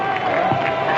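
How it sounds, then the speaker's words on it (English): A minor-league baseball crowd at a Winnipeg Goldeyes vs. Fargo-Moorhead RedHawks game applauding a strike, heard as a brief steady wash of clapping and crowd murmur with a commentator talking over it. "this place is going to applaud every single strike"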